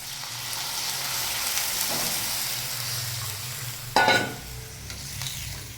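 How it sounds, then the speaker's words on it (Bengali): Water poured into hot oil in a pan while cooking a prawn curry sets off a steady frying hiss, then a sudden loud burst of sizzling that quickly settles back into bubbling, close and without speech. "তেল ছেড়ে গেছে, এখন এটাতে জল দিয়ে নেব।"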